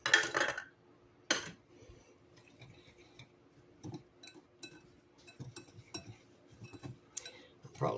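A utensil clinks and scrapes against a bowl while sugar is stirred into butternut squash pie filling, producing scattered, irregular taps at close range in a quiet kitchen.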